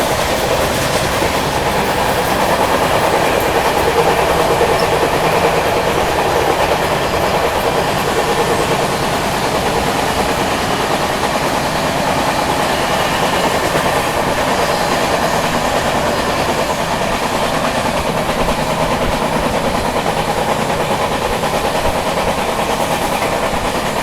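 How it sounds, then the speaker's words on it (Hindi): A New Delhi–Patna special passenger train runs side by side with a freight train on the dedicated freight corridor, producing a loud, continuous rumble with rhythmic wheel clatter that is sustained throughout, with no voices. "डीएफसी में मालगाड़ी दौड़ रही है और अपनी ट्रेन साथ साथ।"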